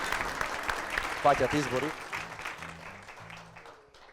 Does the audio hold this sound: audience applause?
yes